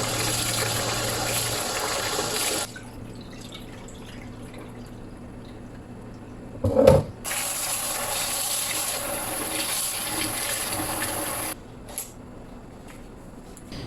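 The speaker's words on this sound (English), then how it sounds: "Wash this rice very gently for about 3 to 4 times or until you see the clear water" Water runs steadily into a bowl of rice being gently rinsed, with soft sloshing, interrupted by a brief clatter midway, then the flow resumes and continues until near the end.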